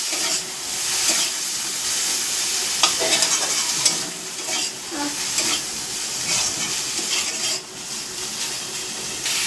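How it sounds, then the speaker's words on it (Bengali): Prawns frying in a kadai with turmeric and salt, a loud continuous sizzle and hiss with frequent scraping stirs of a spatula throughout. "হলুদ একটু দিচ্ছি নুন ভালো করে মাছটাকে ভাজবো"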